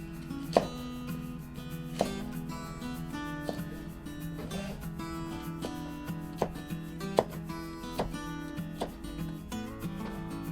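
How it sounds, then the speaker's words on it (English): A knife chops bell pepper into bite-sized pieces on a board with a dozen or so crisp, evenly spaced cuts. It is close and clear, and no one talks. "Then cut it into bite-sized pieces like this"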